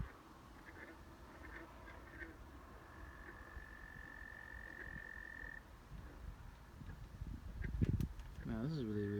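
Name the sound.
frogs croaking outdoors at night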